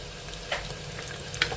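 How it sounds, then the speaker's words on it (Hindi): Spices for a tadka sizzle and crackle in hot oil, a continuous close frying hiss with a couple of sharper pops. "इधर ये देखिए लौकी की सब्ज़ी के लिए यहाँ पर तड़का रेडी हो रहा है"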